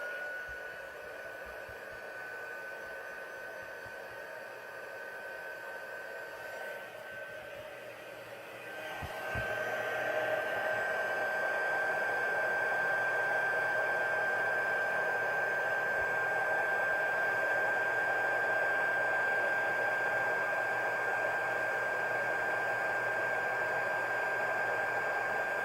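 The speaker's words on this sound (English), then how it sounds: "Alright, so let's heat this up. I'm going to use my heat tool." Handheld craft heat tool for card making on its second setting, blowing with a steady airy whoosh and a fixed whine, close up, stepping louder after a click about a third of the way in and holding steady.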